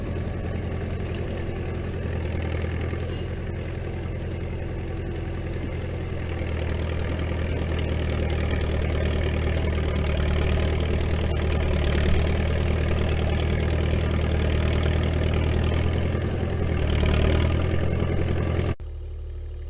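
A mini excavator engine idles steadily at close range at a firewood operation, a continuous low diesel rumble with slight swells in level before cutting off abruptly near the end.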